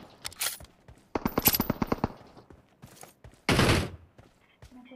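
Running shots in the battle royale game BGMI crack out in quick bursts, one rapid string of evenly spaced shots followed by a louder, denser burst, with short gaps between volleys.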